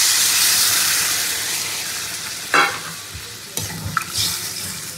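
Potato and soybean curry sizzles loudly in a pan as it is stirred, a continuous hissing fry with a couple of sharper scraping strokes of the spoon near the end, with no talking.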